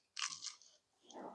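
Biting into a crispy smoked ham amuse-bouche, with a sharp close crunch followed by a short pause and softer chewing crackle, quiet and alone.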